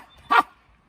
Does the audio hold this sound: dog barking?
yes